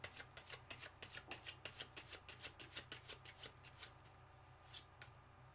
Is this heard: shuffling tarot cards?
yes